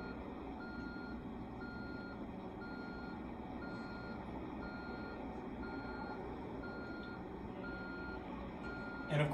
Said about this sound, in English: all these machines have backup alarms, so they let pedestrians and other vehicles know that they're backing up